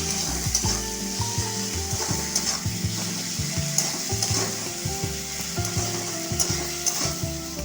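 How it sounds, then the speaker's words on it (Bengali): Ginger paste frying in a pan with chopped tomatoes for an egg and meat tarka, sizzling steadily under frequent, rhythmic spatula scrapes and taps against the pan. "একটু আদাটা ভালোভাবে আদাটা ভেজে নিই"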